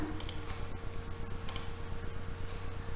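Someone types on a computer keyboard in a quiet room, with sparse, light key clicks and a few sharper taps over a low steady hum.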